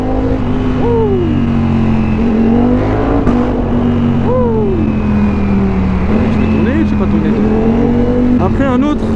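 A Ducati V4S motorcycle with a 215 hp engine runs close by in a steady, loud, low drone that swells slightly, while someone talks over it throughout.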